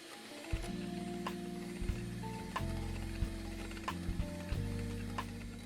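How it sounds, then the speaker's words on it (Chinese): An electric mixer whirs steadily through cake batter as white sugar is added, a close, faint mechanical hum that shifts pitch now and then, with light clicks and ticks over it. "接着边搅拌边加入白糖60克"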